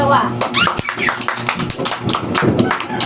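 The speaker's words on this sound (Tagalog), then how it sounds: "Bigyan ng maraming palakpak ang pangkat 2." A classroom of students claps and taps in applause for a student group during a teaching demonstration, a busy close patter of hands mixed with chatter and voices throughout.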